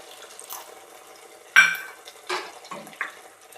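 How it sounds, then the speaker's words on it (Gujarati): A small bowlful of water goes into a simmering dum aloo gravy with yogurt in a home kitchen, giving a quiet splash and pour followed by a few soft stirring clinks and liquid sloshes. "એમાં આપણે 1 વાટકી પાણી નાખશું."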